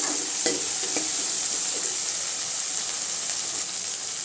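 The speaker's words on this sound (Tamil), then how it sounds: "சுண்டைக்காய் வெங்காயமும் நல்லா வதங்கணும் அந்த எண்ணெயிலேயே" Turkey berries and onions sautéing in oil for a turkey berry curry give a steady, close frying sizzle and hiss, with a few soft stirring scrapes and no talking.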